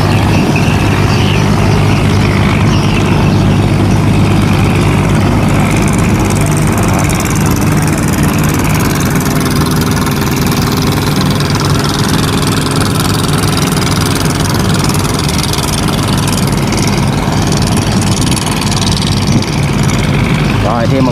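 A barge moving on a river gives a loud, steady low engine drone that holds throughout, close by, with a voice talking over it at times.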